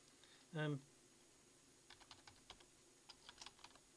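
Typing on a computer keyboard while making a slideshow presentation: a short scattered run of faint, close key clicks after a brief tonal blip, in otherwise quiet surroundings.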